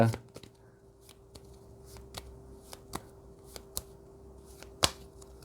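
Tarot cards being shuffled and drawn, crisp separate card flicks and slaps spaced irregularly about every half second, close and clear over a quiet background.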